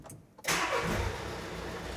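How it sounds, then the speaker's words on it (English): A car engine cranks and catches after a brief near-silent pause, then settles into a steady, loud idle, during a diagnostic test of a clogged diesel particulate filter needing cleaning. "So now we're going to start the engine."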